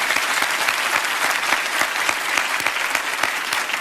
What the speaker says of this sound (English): Give Muffin a big round of applause.